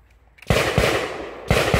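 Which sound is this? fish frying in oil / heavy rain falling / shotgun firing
shotgun firing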